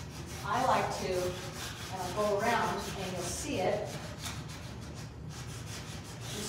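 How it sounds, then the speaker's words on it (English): Sandpaper rubs by hand along the edges of a wooden cabinet drawer, in several slow back-and-forth strokes that are close and fairly soft, with no talk over them. "you start sanding around the edges"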